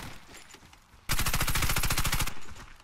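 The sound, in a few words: Calico M955A gunfire in video game Warface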